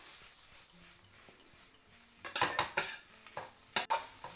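Prawn, egg and noodle ingredients being stir-fried in a pan, quiet scraping at first, then louder rapid tossing and clanking strokes with light sizzling in the second half.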